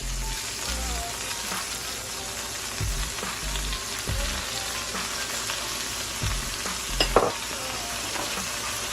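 Chopped onions and celery sizzle in a hot pan for a beef chuck roast, a steady crackling hiss broken by scraping stirs and a few soft thumps of the spoon.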